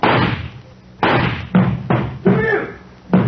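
Knocking on a door in a radio drama: six heavy, loud raps, close up and unevenly spaced, with a muffled, narrow-band broadcast quality and no talk.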